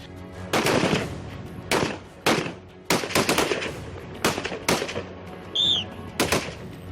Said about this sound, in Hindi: ट्रेनिंग के दौरान कुछ जवानों ने एक ठिकाने को अपनी फायरिंग की जद में लिया